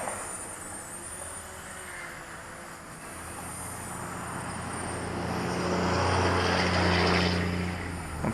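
Small JJRC H20 hexacopter drone flying outdoors in moderate wind, a steady whirring drone hum blended with wind rumble that slowly swells louder toward the end, no voices.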